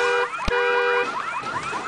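A house alarm sounds inside a garage, a loud electronic tone that holds steady, then switches to a rapid, repeating warble of rising sweeps, with a sharp click partway through.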